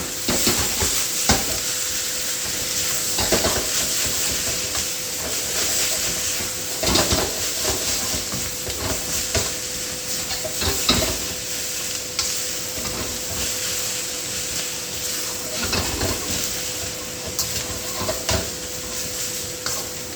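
Meat and instant ramen noodles stir-frying in a hot pan, a loud continuous sizzle and hiss with repeated scraping stirs and tosses throughout.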